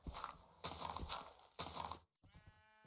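A horse in the Minecraft video game makes loud snorting, whinnying game sounds in three bursts, followed by a brief silence and a rising tonal neigh.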